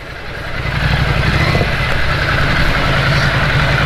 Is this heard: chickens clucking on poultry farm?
no